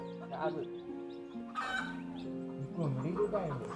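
Hen with chicks on a village farm, clucking in short bursts with chick peeps, fairly faint and mixed with people talking in the background.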